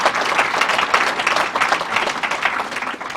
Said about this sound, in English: Give yourselves a gigantic round of applause.